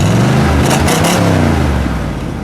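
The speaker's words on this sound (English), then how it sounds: "Go ahead, give that a rev." A 1970 AMC Javelin SST engine revs loudly and close, a steady, dense roar that holds throughout with a slight surge in the middle before easing a little at the end.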